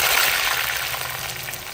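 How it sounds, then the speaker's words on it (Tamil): Bitter gourd slices frying in hot oil; a close, steady hissing sizzle running through the whole short stretch. "இந்த பாவக்காயை நம்ம அறுத்து எண்ணெயில் போட்டு எடுத்து அப்படியே ஃப்ரை பண்ணி எடுத்துட்டு"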